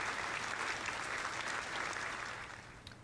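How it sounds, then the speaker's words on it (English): Audience applause at a community celebration event, a steady wash of many hands clapping that stays fairly even, then eases slightly toward the end. "Please give a round of applause to them."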